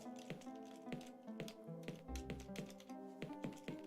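Arrow keys on a computer keyboard are pressed in quick, irregular taps and clicks, fairly quiet, under tonal game music.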